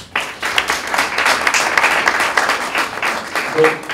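Audience applause at a public-speaking training event in Gabon, a burst of many hands clapping that swells quickly and tapers off unevenly toward the end.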